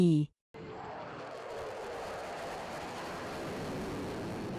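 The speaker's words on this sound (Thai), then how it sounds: "และสิงคโปร์แสดงการบินด้วยเครื่องบินรบ F-15SG" A Singapore Air Force F-15SG fighter jet flies a display at a Thai air force anniversary air show. A brief voice cuts off, then a steady, broad jet roar fills the clip.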